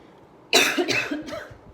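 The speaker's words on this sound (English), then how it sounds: "Excuse me for my cough." A single sharp cough from someone with a cold and cough, loud and close, followed by a couple of weaker trailing coughs in a quiet room.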